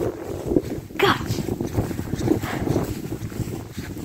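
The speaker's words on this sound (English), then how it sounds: "It is very cold and very windy." Strong, very cold wind at about -25°F wind chill roars and buffets the microphone in uneven gusts, with a low rumble throughout and a few brief vocal exclamations.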